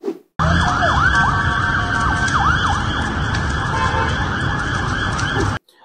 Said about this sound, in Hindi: दमकल गाड़ियों के सायरन की आवाज भी इसमें सुनी जा रही है